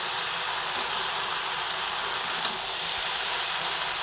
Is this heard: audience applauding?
no